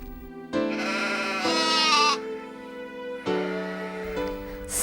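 A goat bleats several times in long, wavering cries, close and fairly loud, over a soft sustained musical tone.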